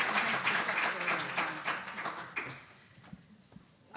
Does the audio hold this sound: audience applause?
yes